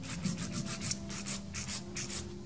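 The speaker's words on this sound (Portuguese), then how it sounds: "a gente vai vir com a lixa manual e dar porosidade nela" A hand nail file roughens the tip of an artificial nail in quick, rhythmic back-and-forth rasping strokes, about a dozen of them, close and steady, with no speech.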